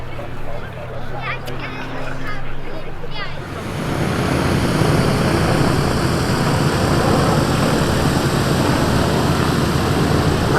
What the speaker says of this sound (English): Now a representative of the Soviet fighters of World War II getting airborne in the form of the Yak-3.